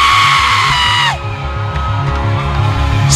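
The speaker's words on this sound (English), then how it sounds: "The shout you are shouting is as if you have won a lottery." A church congregation at a Tuesday prayer altar service shouts loudly and continuously, a dense wall of massed voices yelling together over a thumping rhythmic low beat.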